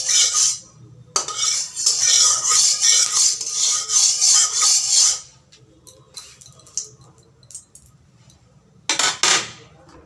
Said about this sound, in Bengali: দিয়ে তেলটাকে আমি খুন্তি দিয়ে এভাবে ছড়িয়ে দিব।